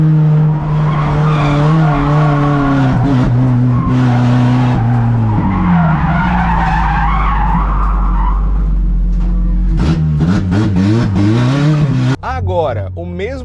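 A front-wheel-drive race car slides out at the rear, its tires squealing in a long sustained skid over a droning engine, then revving and squealing again sharply near the end, loud and close.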